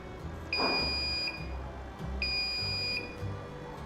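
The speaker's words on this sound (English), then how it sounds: "You actually hear that beep, that long beep, which is a second's worth of beep." A Beauteck Plus plasma device gives two long electronic beeps, each lasting about a second, steady and piercing over a faint low hum, with a short gap between them.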